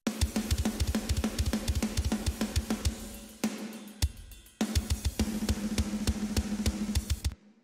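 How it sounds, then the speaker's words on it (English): Programmed drums play a tight, rapid pattern of kicks, snares and cymbal hits, briefly cutting out midway before the mechanical beat resumes and stops abruptly. "my drums sound like this."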